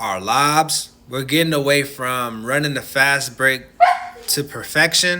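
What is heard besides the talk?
dog barking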